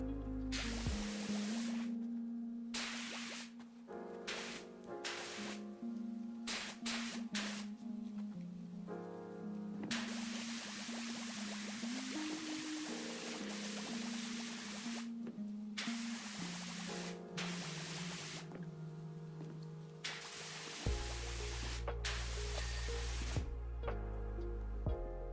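Power washer spraying metal cleaner onto plastic lights in Power Wash Simulator, a continuous hissing spray over a steady mechanical drone that stops and restarts several times across the stretch.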